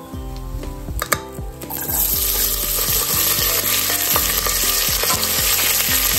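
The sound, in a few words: onion, mint and curry leaves frying in oil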